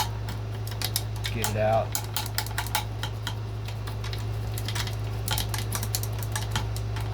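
A chopstick knocks powder residue down through the hopper of a Lee Load All 2 reloading press, giving a run of quick, light tapping clicks over a low hum, with a brief spoken remark.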